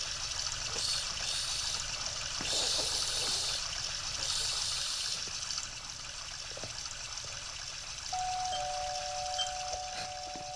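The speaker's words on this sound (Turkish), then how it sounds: "Meyveleri yıkayayım." Tap water runs and splashes steadily over fruit being rinsed, with a doorbell-like chime near the end.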